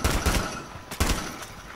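Gunfire in Rainbow Six Siege, several sharp shots in quick bursts, a cluster at the start and another about a second later, fairly close over a noisy background.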